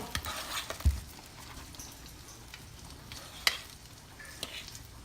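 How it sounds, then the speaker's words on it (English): Stuffed French toast filled with banana and cream cheese frying in a pan, a soft steady sizzle with a few sharp taps and scrapes, fairly quiet and close, with no one speaking. "now we got this little French toast stuffed bomb right to the pan"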